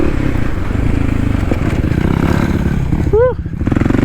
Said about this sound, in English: riding dirt bikes